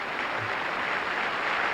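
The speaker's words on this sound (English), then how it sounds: "fancy getting applause for that" Audience applause at the Miss World 1995 beauty pageant, a dense, steady wash of clapping that fills the entire short stretch at an even level.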